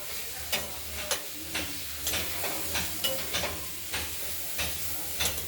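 Thin strips of beetroot, carrot and sweet potato fry in oil in a pan, giving a steady crackling sizzle with scattered sharp pops and stirring scrapes, close and moderately loud, with no talking.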